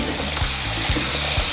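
Water is poured into a large batch of slime, a steady splashing gush with a few thick, heavy glugs as it lands, fairly loud and close with no voices.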